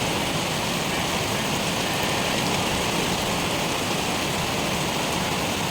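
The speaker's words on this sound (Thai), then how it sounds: "วันนี้นะคะ เขาว่า ฝนจะตกก็ตกจริงๆ นะคะ ตกแบบเย็นสบายเลยนะคะ" Steady, cool rain falls on a Thai garden planted with papaya, chili and banana plants, giving a dense, unbroken hiss throughout with no voices.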